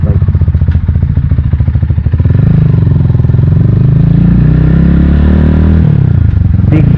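A Rusi Titan 250 fi motorcycle is ridden with a steady, loud engine drone that deepens and swells after a couple of seconds, with faint rattles over the continuous rumble.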